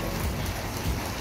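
Sudden heavy rain pours down in a steady, dense wash of noise, with no voices heard over it.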